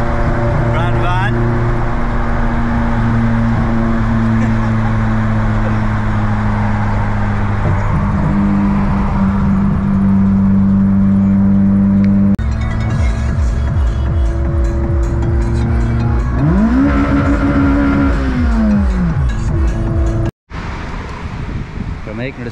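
A van drives on a motorway, its steady engine drone and road rumble running throughout with gear and pitch shifts, voices talking over it, then a sudden cut near the end.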